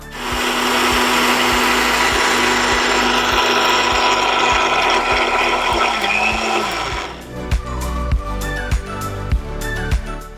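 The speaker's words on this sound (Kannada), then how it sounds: "ಈಗ ಮಿಕ್ಸಿ ಆಗಿದೆ" A mixer grinder whirs loudly and steadily for about seven seconds, grinding a fine paste for a home tan-removal remedy, then stops, leaving a series of sharp clicks and knocks.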